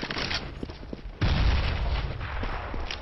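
A grenade goes off in Counter-Strike: Global Offensive, a sudden heavy blast about a second in that rumbles and decays, preceded by a few scattered clicks and shots.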